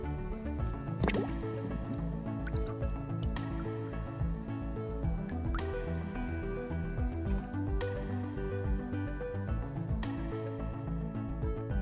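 Water from a drinking water reservoir is scooped into a sample container, giving steady close gurgling, dripping and filling sounds with a few sharper splashes, and no talking.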